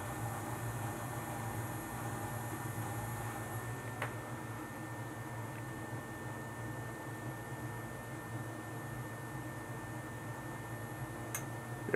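A 1990 Slant/Fin Galaxy Series boiler runs steadily, a faint continuous low hum and whir with a few soft ticks, alone and unbroken throughout.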